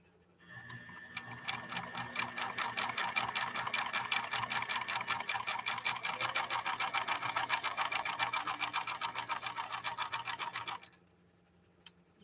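A PFAFF 1222 sewing machine stitches fabric in a steady rapid run of needle clatter lasting about ten seconds, close and alone, then stops abruptly.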